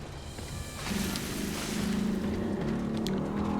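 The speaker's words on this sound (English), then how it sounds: "you might hear a motorbike on the mic" A motorbike engine hums and builds in the background outside, its low drone rising partway through as it passes nearby.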